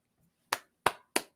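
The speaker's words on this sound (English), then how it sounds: "give the man a clap" Three crisp hand claps, evenly spaced and close, ringing out alone in a quiet room as applause for director Lee Cronin.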